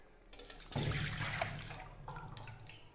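Water gushes suddenly out of a container once its lid comes off and drains down into a basket below, a close splashing pour that fades to a trickle.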